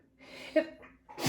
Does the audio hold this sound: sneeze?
yes